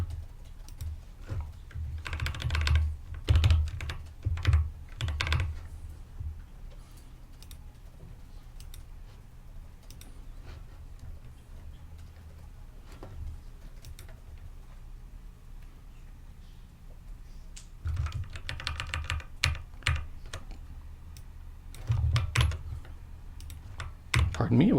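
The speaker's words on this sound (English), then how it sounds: "Pardon me while I fumble the keyboard." Computer keyboard typing and fumbling at a desk, heard as two spells of rapid, close clicking keystrokes separated by a quieter stretch, with a voice faintly present at times.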